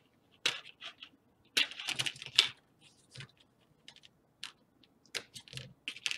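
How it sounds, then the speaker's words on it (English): Plastic model kit parts for a submarine conning tower being snipped off the sprue, giving a series of sharp, close clicks and snaps in uneven bursts with quiet gaps between them. "We just snip them off."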